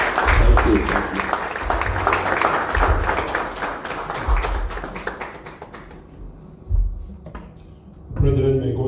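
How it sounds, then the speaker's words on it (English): Church congregation clapping, a loud, dense round of applause that gradually thins and fades to near silence, followed by a few scattered thumps and renewed sound near the end. "Give a round of applause"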